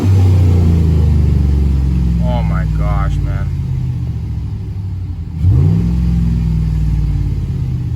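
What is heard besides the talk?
Chevrolet Silverado engine revving with cold air intake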